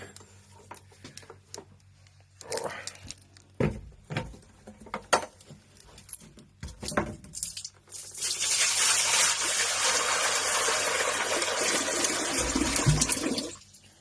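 Fresh water gushes steadily into a snake's water bowl at a zoo enclosure, a loud close pour lasting about six seconds. Scattered clinks and knocks come before it.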